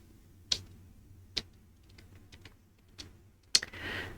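Sparse typing on a computer keyboard during web coding, a handful of separate key clicks spread out with pauses between them, close up and quiet.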